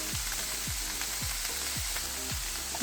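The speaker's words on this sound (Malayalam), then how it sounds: "ഇനി നമുക്കിതൊന്ന് ഇളക്കി കൊടുക്കാം. ഇത് നമുക്ക് ചെറുതായിട്ടൊന്ന് വാട്ടിയെടുക്കാം." Food fries in a pan with a steady, dense sizzle while a utensil stirs it in regular scraping strokes, roughly two per second, close and continuous with no talking.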